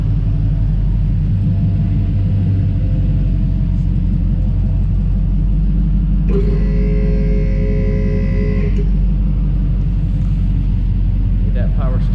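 A GEN III Hemi V8 fitted in a 1968 Dodge Charger idles at its first startup, a steady low rumble throughout, with a brief whining tone partway through and no voices.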